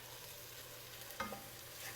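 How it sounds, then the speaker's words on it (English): Garlic, onion and chili flakes sizzling in hot oil for a simple pomodoro sauce, a quiet steady fry hiss with one brief stirring scrape near the middle, no voices. "And give that a quick stir."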